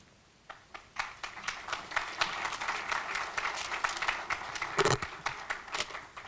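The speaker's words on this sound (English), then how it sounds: "Why are you clapping?" An audience claps at an English department awards night, starting with a few scattered claps and building into a steady, moderate round of applause in a hall.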